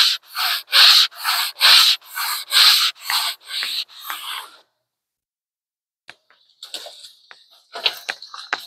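Hand sanding of wooden window boxes: about nine quick, even back-and-forth rasping strokes up close, a pause of silence, then lighter scattered scuffs and taps as sanding resumes.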